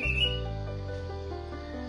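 An orange-headed thrush sings a short run of clear, whistled notes that shift in pitch, close and fairly soft.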